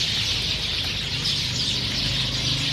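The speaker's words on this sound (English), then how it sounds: "So many birds here" A flock of birds crowded in a tree along a residential subdivision street in Antipolo, Philippines, chirps and clucks in a dense, continuous chatter that stays steady and fairly loud throughout.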